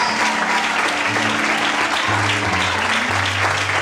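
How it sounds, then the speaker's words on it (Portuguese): Many members of a church congregation applaud during an evening service, continuous dense clapping over a low sustained organ or keyboard chord underneath. "Quantos podem aplaudir e exaltar a Deus nessa noite?"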